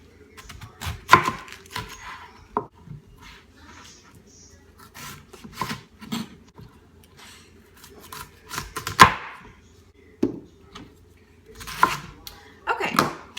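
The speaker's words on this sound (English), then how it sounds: "I'm gonna cut my cabbage in half and quarters" Sporadic knife cuts and thuds of a cabbage being halved and quartered on a board, irregular and close, with brief pauses between strokes and faint background noise.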